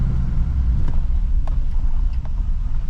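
An LML Duramax diesel pickup truck cruises back roads, with a steady low engine and road rumble heard from inside the cab, broken by occasional light clicks and wind noise.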